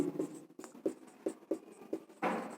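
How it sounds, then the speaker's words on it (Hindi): Chalk or marker writing on a classroom board during a Hindi grammar lesson, a string of short scratchy strokes in an uneven rhythm, close and fairly quiet. "हाँ यहां लिखता हूं मैं"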